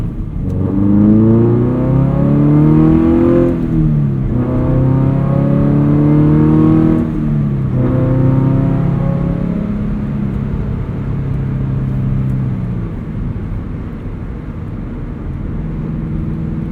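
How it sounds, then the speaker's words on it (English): A Subaru BRZ fitted with a header and loud exhaust accelerates hard, the engine note climbing through rising revs with brief dips at gear changes, then settling into a steadier, quieter drone as it cruises, heard from inside the car. "exhaust still quiets down when you're cruising, even with the header. Overall, I'd say it's definitely a lot louder of a setup, but it sounds so good"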